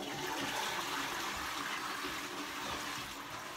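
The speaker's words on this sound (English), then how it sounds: "She just flushed the toilet after 10 o'clock." A toilet flushes in a steady, loud rush of water filling the space from start to end, with no talk over it.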